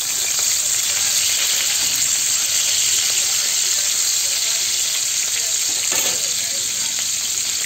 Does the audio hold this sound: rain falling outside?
no